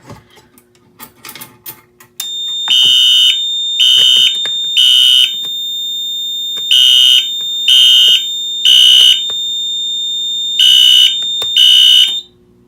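A demonstration fire alarm system sounds after a pull station is activated, starting with a few clicks, then a loud high steady tone broken by repeated pulsing bursts.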